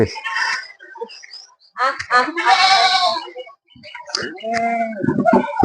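A young goat kid at a household goat farm bleats in short, wavering cries, with a second run of bleats near the end, heard close and clear between stretches of people talking.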